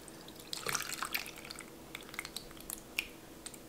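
Homemade kefir poured from a jar, a soft trickling and dripping of thick liquid with a few brief splashes and drips, fairly quiet and close, no voices.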